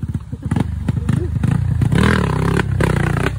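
Motorcycle engine revving and clattering over large rocks on a mountain trail at Makiling, loud and close with thumps and scrapes, under excited shouting voices.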